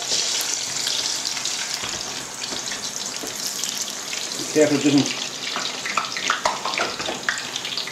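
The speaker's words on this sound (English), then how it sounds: "That's basically the water coming out of the potatoes, and it makes steam bubbles and it'll settle down in a second or two." Potato chips, soaked in cool water and dried, bubble and hiss in warm oil, giving a steady loud sizzling wash with a brief voice speaking partway through.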